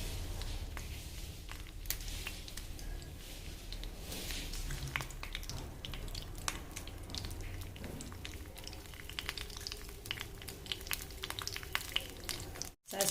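Mustard seeds splutter and crackle in hot coconut oil during tempering, a steady dense sizzle with scattered sharp pops that runs unbroken for the whole stretch, close and fairly loud.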